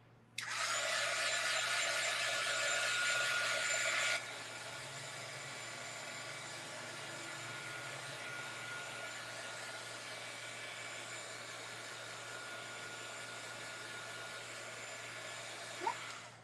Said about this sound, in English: I do have a little heat tool here off to the side. So I'm just going to hit it with a little bit of heat